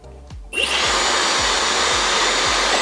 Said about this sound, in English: It's still noisy. It's a hairdryer. So I'm going to turn it on.